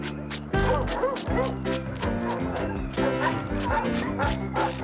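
Sled dogs of mixed Mackenzie Valley trapline and husky bloodlines bark and yip excitedly together before a race, loud, repeated and overlapping, with a voice speaking in the background.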